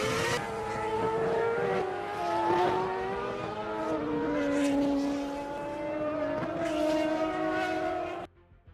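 Formula 1 cars racing at a Grand Prix, with a loud, continuous engine howl whose pitch climbs and drops through gear changes for several seconds before cutting off abruptly near the end; no impact is distinguishable.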